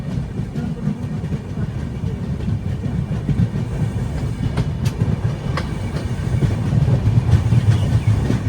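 A passenger train running on rails on the Kacheguda to Bhagati Ki Kothi route between Ratlam Junction and Jaora, a steady low rumble with faint clickety-clack of wheels, heard close from inside the carriage.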